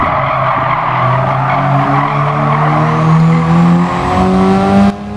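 Race car engines in the Gran Turismo Sport video game, revving high and steady with rising pitch sweeps as tires squeal and skid through a corner, loud and close, with distant high revs underneath; no talking.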